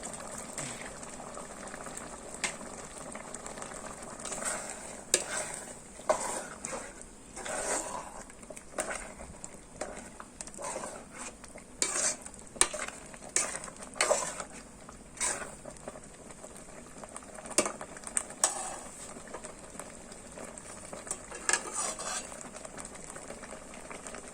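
A pot of fresh bamboo shoots with pork belly coming to a boil, with steady bubbling and patter running throughout, plus scattered sharper pops and clinks.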